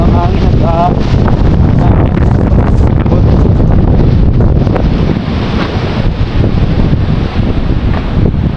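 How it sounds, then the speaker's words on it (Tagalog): Heavy wind buffets and roars across the microphone by the sea, a constant loud gusting rush with surf beneath and a voice briefly heard. "Grabe, sobrang lakas ng hangin"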